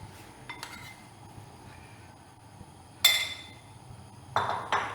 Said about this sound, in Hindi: एक पैन में हम थोड़ा सा घी डालेंगे